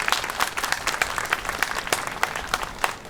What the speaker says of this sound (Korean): 이 모든 분들께 뜨거운 박수를 부탁드리겠습니다